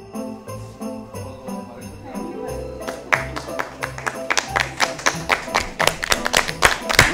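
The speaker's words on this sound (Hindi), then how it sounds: "इनके लिए जोरदार तालियां" An audience claps for the winners of a game at a Catholic gathering, starting with some music-like tones and a few scattered claps, then swelling into sharp, rhythmic, fairly close applause that grows louder toward the end.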